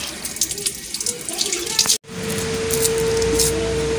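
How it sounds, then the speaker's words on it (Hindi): Tap water pours steadily into a pot of cleaned lentils, a continuous close rushing splash that stops briefly midway and resumes with a steady tone as the vessel fills. "अब इसमें हम पानी डाल के रख लेते हैं थोड़ी देर के लिए"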